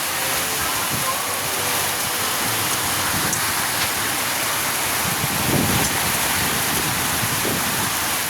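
Steady rain pours down hard outdoors at a site where digging for a house has begun, a dense, even hiss with a few nearby drips and taps and no talking.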